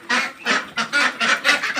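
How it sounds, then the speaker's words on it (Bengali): Ducks on a small Bangladeshi duck farm at afternoon feeding, a quick run of about six loud, nasal honking quacks in a rough rhythm, close by with nobody talking. "হাঁসগুলো বের করে ঘরের ভিতরে আসছে"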